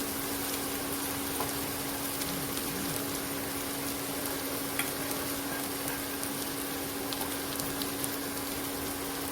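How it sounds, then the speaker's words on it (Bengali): A steady, close sizzle comes from vegetables frying in a pan. It holds an even hiss throughout the clip with faint scattered crackles and a low hum beneath, and no voices. "দেখতেই পাচ্ছ সবজিগুলো মোটামুটি ভাজা হয়ে এসেছে।"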